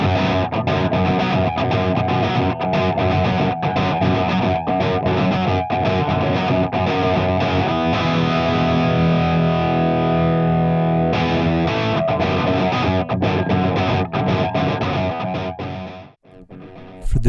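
Distorted Gibson Les Paul electric guitar running continuously for about seventeen seconds, a thick, saturated riff with steady loudness and chugging attacks, close and alone, fading briefly before a final hit.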